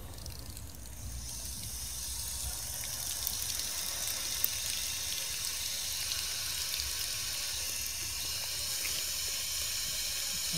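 A water tap runs steadily while filling water balloons, a continuous hissing gush that stays even throughout with only faint small clicks, heard alone with no talking.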